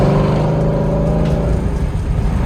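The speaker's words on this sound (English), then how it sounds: "That little X-pipe definitely made a big difference, man. This thing's a lot louder." Car fitted with an X-pipe exhaust, heard as a loud, steady engine drone with a deep rumble throughout, revving continuously close by with no talk over it.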